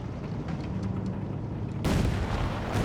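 A tank shell strikes its target in the Company of Heroes 3 battle game. A sudden loud, broadband blast hits midway and lingers as rumbling fire over a constant din of battle.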